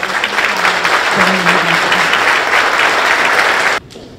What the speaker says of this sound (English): please help me give a big round of applause to Billy Nungesser